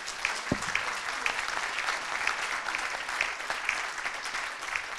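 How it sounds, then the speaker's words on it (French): An audience claps steadily at the close of a round-table discussion on the 2024 farming crisis, a soft, fairly distant patter of many hands with a few sharper individual claps, and no voices. "On peut applaudir nos..."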